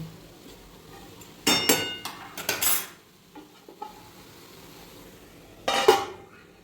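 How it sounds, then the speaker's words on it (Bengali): A metal lid goes onto a pot of carrots cooking with sugar, giving a few loud clanks and clinks close by, then a quieter stretch and one more clatter near the end. "এবার আমি একটু ঢাকা দিয়ে গাজরটাকে চিনির সাথে যাতে ভালো করে আরও মিশে যায় তার জন্য একটু ঢাকা দিয়ে দেবো"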